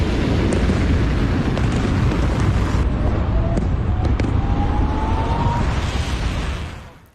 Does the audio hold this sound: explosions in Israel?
yes